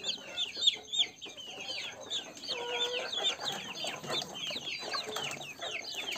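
Chicks from a cross of a broiler rooster and a kampung hen peep in a steady stream of high, thin chirps, soft and close, with no talking.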